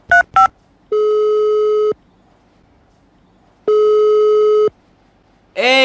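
A telephone call gives a busy tone: two quick beeps, then two long steady tones about a second each, separated by a longer silence, close and clear, with another short tone cut off at the end.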